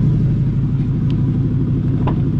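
A Ford Mustang Boss 302 Laguna Seca with four exhaust outlets idles with a deep, steady low rumble, loud and close, with a couple of faint ticks over the engine.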